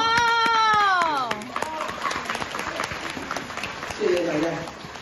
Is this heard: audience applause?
yes